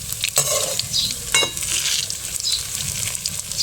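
Papaya kofta balls frying in hot oil while being turned over, a steady close sizzle broken by a couple of sharp scraping clatters from the spoon, no voices.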